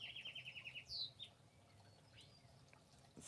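Birds in a garden chirp and whistle, opening with a fast string of repeated high notes, then a sharp whistle and softer scattered calls over a steady outdoor hiss.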